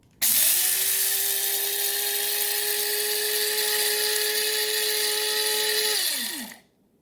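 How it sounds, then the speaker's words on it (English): An electric grinder whirs steadily through a batch of flaxseed, a loud, even motorized drone that starts abruptly, holds for about six seconds, then spins down and stops. "Now we're going to grind our flaxseed."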